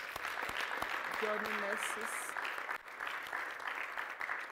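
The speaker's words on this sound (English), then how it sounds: "Let's clap for the Lord" A church congregation claps along during a fasting and prayer service, steady applause running throughout with a voice speaking over it.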